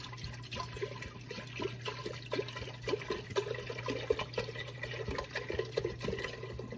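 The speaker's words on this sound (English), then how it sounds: "I'm just gonna dump this whole thing in here" Half a gallon of 5% acidity vinegar is dumped into a container for pickle brine, a steady close gurgling pour lasting several seconds with a low hum beneath.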